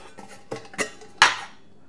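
A lightweight metal pot from an ultralight Speedster camping stove setup is handled, giving a few sharp clinks and clanks spaced apart, the last the loudest with a short ringing tail, close in a quiet room.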